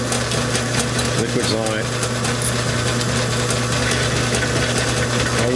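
A drill bores out a broken exhaust bolt on a Kohler Courage engine of a Cub Cadet lawn tractor, a steady grinding motor hum running throughout beneath a voice.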